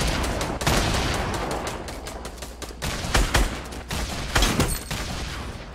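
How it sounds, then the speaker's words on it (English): Dense bursts of video game gunfire crackle in rapid volleys, loud and close, with several heavier sharp shots standing out amid continuous shooting. "Come on, keep shooting"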